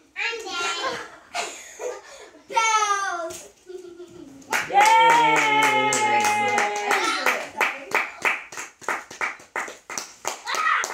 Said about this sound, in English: Clap, clap, clap, clap, clap.